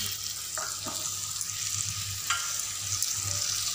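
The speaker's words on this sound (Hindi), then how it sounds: "अब हम मूली के पत्ते को डाल देंगे" Radish leaves go into frying radish in oil and are stirred, with a steady moderate sizzle and a few soft scraping and clinking touches.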